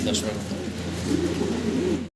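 Low, repeated cooing of saddle racer pigeons close by, a soft warbling rhythm that continues steadily until it cuts off abruptly.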